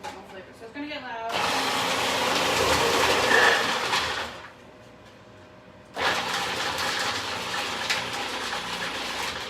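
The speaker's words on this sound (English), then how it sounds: "Food processor." A food processor shreds carrots for slaw, its motor roaring loudly in two bursts separated by a short pause, with a brief voice heard just before it starts.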